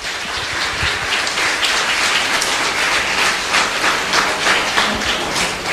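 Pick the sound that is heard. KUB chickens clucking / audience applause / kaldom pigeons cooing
audience applause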